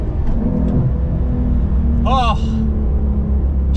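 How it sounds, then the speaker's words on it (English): A 2023 Porsche 911 Carrera T engine rumbles loudly and steadily, with a brief rising rev blip on a downshift partway through, while a voice talks over it. "Those downshifts."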